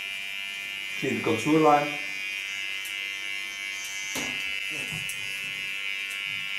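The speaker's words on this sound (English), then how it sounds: "Getting to my small clipper." Small electric hair clipper trimming the nape contour of a straight bob during a hair tattoo cut; a steady close buzz runs throughout while a person talks briefly over it.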